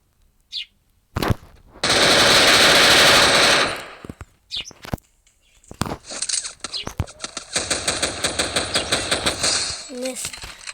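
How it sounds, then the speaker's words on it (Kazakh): Rapid automatic gunfire in the Free Fire battle royale game, with a long sustained burst followed by a quicker run of evenly spaced, rhythmic shots, loud and close, with a few isolated shots in between. "Ол мына жақта бір адаммен атысып жатыр."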